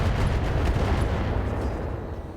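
A mech fires an alpha strike with all weapons in the RogueTech game, a loud close burst of booming blasts that merges into a thick, rumbling roar. The roar fades slowly over a couple of seconds, with no talking.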